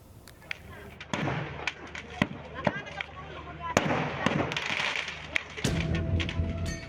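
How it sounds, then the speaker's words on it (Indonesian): Stockpiled fireworks and firecrackers explode inside a burning shop-house and wholesale store, with sharp irregular cracks and thumps over a roaring, crackling fire and the rumble of a crowd. "Ledakan kembang api hingga petasan dari semua rumah sekaligus toko grosir terbakar"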